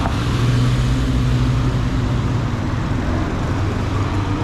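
Steady, busy street traffic on a dead-end road leading to a hospital in Bangkok, a continuous low rumble of cars and buses with engine drone and no clear pass-bys.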